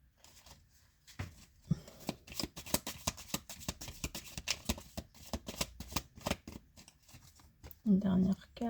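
Tarot or oracle cards are shuffled for a card reading, a rapid close riffling and flicking that runs for several seconds as someone speaks over it.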